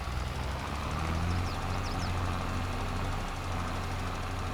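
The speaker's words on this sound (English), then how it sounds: "And we're using tractors we've never used before" A tractor engine runs steadily in Farming Simulator 22, keeping up a constant low mechanical hum with a faint rattle at an even level and no talking.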